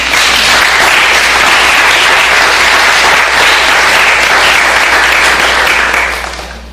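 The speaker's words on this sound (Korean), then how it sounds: "박수 한번 할까요?" Sustained, loud applause from a church congregation honoring the mothers wearing flowers, a dense wash of clapping that holds steady for several seconds before fading out at the end.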